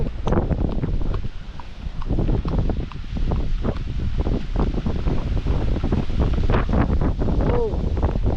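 Strong wind blows hard across the microphone in a harvest field, a loud constant buffeting rumble with gusty rustling, while people talk intermittently over it.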